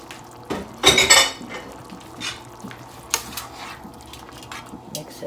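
A spoon stirs bacalao guisado, a Puerto Rican salt cod stew, in a pot, with scraping and clinking of utensil against metal in short bursts over a soft simmering sizzle, close by and without voices.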